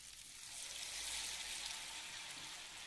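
Egg paniyaram batter frying in hot oil in a pan, a steady close hissing sizzle with fine crackling that swells slightly and holds, with no talk over it.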